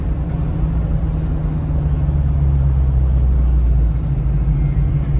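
A 1937 Ford Coupe's engine gives a loud, steady low rumble from inside the car as it drives, continuous and unbroken with no talking.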